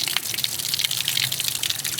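A garden hose sends a strong, hissing blast of water onto the leaves of a Wandering Jew plant. The gushing spray is continuous and close, and no voices are heard.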